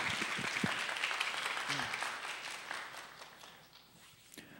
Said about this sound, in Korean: 우리 이선호 형제님 나오실 때 우리 박수로 맞아주시기 바랍니다.